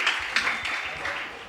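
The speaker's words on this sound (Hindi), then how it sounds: "तालियों से उनका स्वागत कीजिए" Applause from an audience welcoming performers at a school cultural programme skit, a continuous mass of clapping that holds at a moderate level throughout the short stretch.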